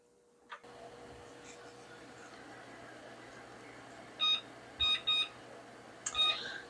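A kitchen timer gives a series of short, high electronic beeps as it is set for two minutes while jam boils on the stove: one beep, then a quick pair, then another, over low steady kitchen hum.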